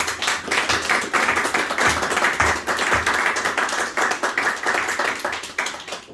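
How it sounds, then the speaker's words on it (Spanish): A church congregation at a Spanish-language Bible service claps together, a dense, fairly loud and even patter of many hands that carries on steadily with no voices over it. "vamos a darle un aplauso al Señor Jesucristo"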